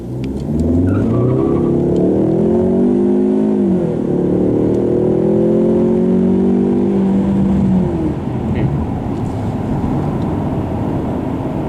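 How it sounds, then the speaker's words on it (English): A 2015 Ford Mustang EcoBoost under hard acceleration, its engine loud and close with rising revs that drop at each gear shift, then climb again before easing off near the end. "We're gonna see how the transmission shifts, see how it handles a hard acceleration."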